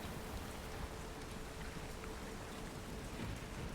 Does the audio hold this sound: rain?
yes